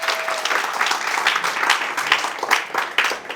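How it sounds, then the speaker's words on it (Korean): A lecture audience of aspiring young entrepreneurs breaks into applause, a brisk burst of many hands clapping at moderate loudness, rippling with uneven peaks before tapering off. "박수 한번 주십시오."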